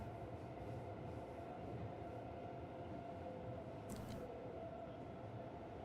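A train runs in the city-building game Cities Skylines 2, a steady, dense rumble with a faint rolling clatter and a brief high hiss partway through, no speech.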